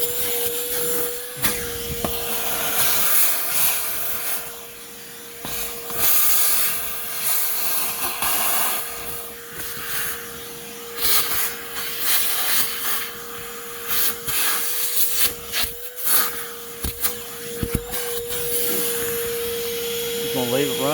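Ridgid dual 18-volt cordless vacuum, model HD0918, running continuously with a steady whine and airy hiss, its tone dipping and surging as the nozzle is moved and rubbed over surfaces, someone talking intermittently over it.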